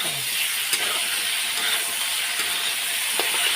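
Potatoes and tomatoes frying in a pan for a home-style potato curry, giving a steady broadband sizzle throughout with a few brief stirring clicks near the start and end, close and continuous with no talking.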